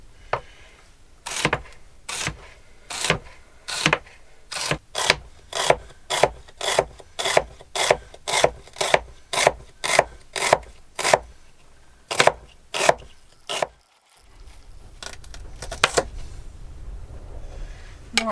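A knife cuts vegetables in half on a cutting board in a home kitchen while making chicken noodle soup, giving a steady run of about twenty crisp, close chops at an even rhythm, then quieter handling.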